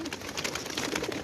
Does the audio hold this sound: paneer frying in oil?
no